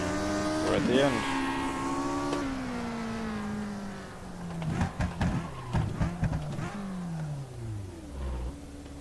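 A race car engine in the rFactor 2 racing game, rising through revs, shifting down with crackling blips under braking, then winding back up, loud and close.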